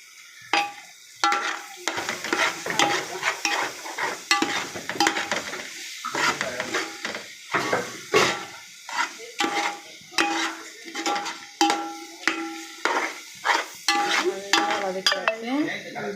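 Spices and chilli powder being sautéed in a pan for Chennai-style biryani, with repeated scraping and stirring strokes of a utensil against the pan over a steady sizzle, close and moderately loud, with no talking.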